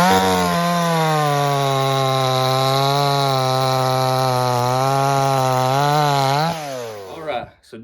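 A Dereal 5820F 20-inch chainsaw engine runs at a steady, high-pitched whine close up, then winds down and sputters near the end.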